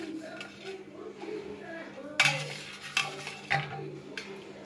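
A spatula scrapes and knocks against a frying pan while an egg is being moved, several distinct metallic clinks and scrapes over a low steady hum, with a voice talking quietly underneath.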